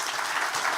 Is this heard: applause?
yes